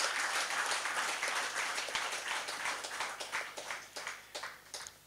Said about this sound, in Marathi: एक जोरदार मला वाटतं टाळ्यांचा कडकडाट होणं गरजेचं आहे.